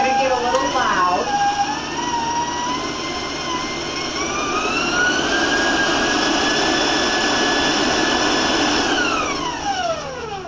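An electric stand mixer with a paddle beats cake batter for a skillet pineapple cake at high speed, whirring loudly and continuously with a rising then falling motor pitch.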